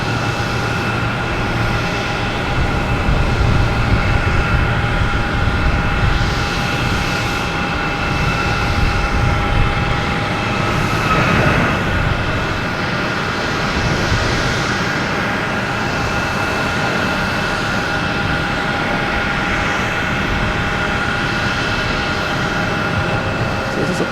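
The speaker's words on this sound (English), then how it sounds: "Also have a Southwest taking off, heading to Denver. 737 MAX 8, flight 3908." A Southwest Airlines Boeing 737 MAX 8 takes off at Boston Logan Airport, its jet engines producing a steady, fairly loud broadband roar with a faint whine that holds for the whole stretch, and no talking.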